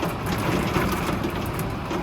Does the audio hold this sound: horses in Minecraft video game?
no